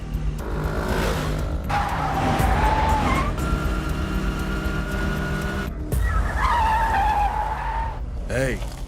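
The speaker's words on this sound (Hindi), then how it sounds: "भाई, वो स्कूटर से भाग रहा है।" A scooter speeding away in a tense chase scene, with loud engine roar and skidding, screeching tire noise throughout, mixed with dramatic film sound and brief voices.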